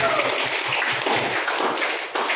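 An audience at a nurse-midwife quiz competition claps for the pediatrics team, an uneven burst of applause mixed with chatter and some louder individual claps near the start.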